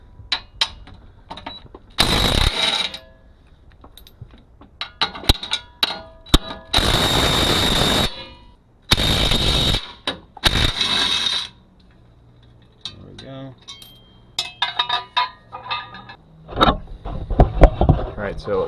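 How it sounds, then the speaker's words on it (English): An impact wrench removing 15mm bolts from a transfer case fires in several loud, close bursts of rattling hammering, separated by pauses filled with clanks, ratchet clicks and someone speaking. "I've got my impact here, as you've seen in other videos."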